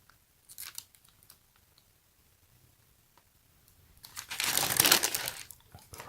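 Tissue paper from a Supreme x Nike Air Max Tailwind IV shoe box being handled, with a few soft rustles early on, then a louder, close burst of crinkling near the end.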